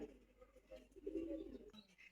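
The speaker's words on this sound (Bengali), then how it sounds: "এদের কথা বলতে বলতে এদের ধানগুলো কবুতরে খাওয়া শেষ করতেছে" Pigeons coo softly while pecking at harvested paddy grain, a low murmuring call rising in the middle of the stretch, with a voice talking faintly in the background.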